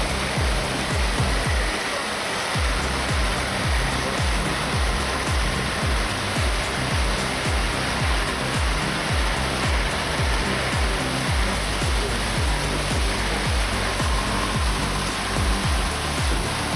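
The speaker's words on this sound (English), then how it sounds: "A truck crosses the river, its tires splashing through the water as it navigates the shallow currents." River water rushes steadily as a truck crosses through its shallow currents, a loud, dense, unbroken wash of flowing water that stays even throughout, with no voices.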